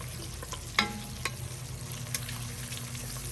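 Chopped pieces of spare rib trimmings crackle and sizzle steadily in a skillet, with a few sharper clatters and scrapes as a utensil stirs them around; no talking.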